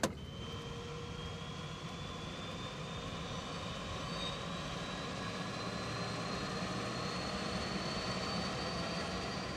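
A specially designed survey plane carrying magnetic-field detection instruments flies with a steady, even engine drone and a faint propeller whine throughout, and nobody speaks.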